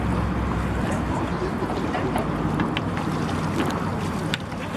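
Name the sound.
Someone's boat on the water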